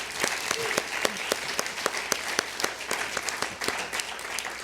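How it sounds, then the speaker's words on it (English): A crowd applauds steadily, with dense clapping throughout and a few sharper claps standing out, heard from within the room. "You can give them a round of applause again."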